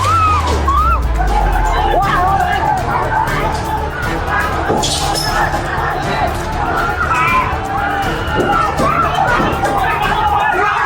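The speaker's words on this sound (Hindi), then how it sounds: "और सैकड़ों की भीड़ पुलिस वालों पर टूट पड़ी है।" A protest crowd of hundreds in Nepal rushes and chases police amid arson and smoke, a dense, loud and continuous roar of shouting and babble with no pause across the whole stretch.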